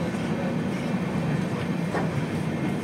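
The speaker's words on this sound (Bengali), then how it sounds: "নিউ কোচবিহার রেলওয়ে স্টেশন থেকে 11 মিনিট হল্টের শেষে রাত 9:55 ট্রেন তার পরবর্তী গন্তব্য ফালাকাটা রেলওয়ে স্টেশনের উদ্দেশ্যে রওনা হলো" Brahmaputra Mail passenger train pulling out of New Cooch Behar station at night, a steady loud rumble of rolling wheels and carriages with faint rhythmic clacks, continuous throughout.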